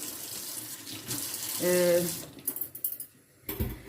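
Running tap water pours over an object at a sink to rinse off soap, a steady splashing flow with a brief louder burst, followed by a few clinks of dishes or cutlery.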